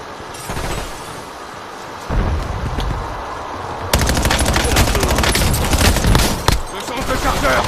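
Gunfire in the video game Warzone: rapid automatic bursts and a dense fusillade of shots that grow louder and more continuous partway through.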